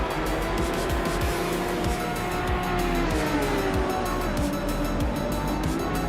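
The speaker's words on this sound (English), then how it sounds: "Hope you're ready for some exciting AI car races today." AI-driven race cars in a racing video game scream past with revving engines, repeated close passes and rising and falling engine whines layered over a constant loud roar.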